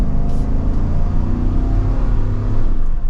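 A 2023 GMC Yukon XL 4WD Denali accelerating, heard from inside the cabin as a loud, steady low engine drone with road whir that holds and swells slightly throughout.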